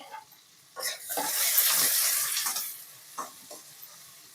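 Onions, green chillies and curry leaves hit hot oil in a tempering for curd rice, giving a loud burst of sizzling that swells and fades. It comes with a few clinks of a spoon against the pan.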